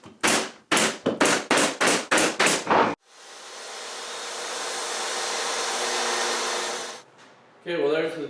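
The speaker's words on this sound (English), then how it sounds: "I'll apologize for my compressor kicking on. I got a little slow leak I didn't know about" An air compressor with a slow leak kicks on in a home workshop where a work table is being built. A string of sharp rhythmic bangs comes first, then the motor drones steadily and loudly for about four seconds before cutting off.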